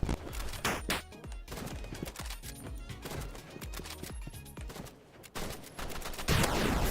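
Gunfire in the Roblox Rivals video game from a sniper loadout: dense, continuous bursts of shots and booms pile up into a loud, cluttered barrage with few gaps, and no voice over it.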